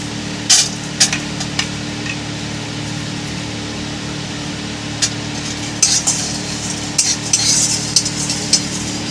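Peanuts, coriander seeds, garam masala and white sesame stirred in a pan on the stove for a Bengali kundri masala, with scattered scraping and clinks of a spatula over a steady low hiss.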